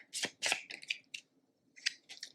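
Cards from the Lost Ruins of Arnak board game are shuffled up close in quick crisp riffles and rustles, coming in several short bursts with brief pauses between them.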